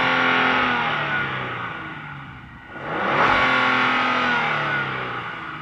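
Engine of a 2025 Genesis GV80 SUV heard from outside the vehicle: a steady mid-pitched rev that dips briefly, then swells again and holds, moderately loud and close, with no talking.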